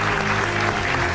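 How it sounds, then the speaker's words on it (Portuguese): Studio audience applause on a Portuguese television health show, a steady dense wash of clapping from a crowd filling the whole moment, loud and continuous without voices. "Um aplauso para ela."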